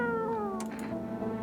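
A cat in a horror video game gives one drawn-out meow that slides downward in pitch, with a few faint clicks over a steady background tone.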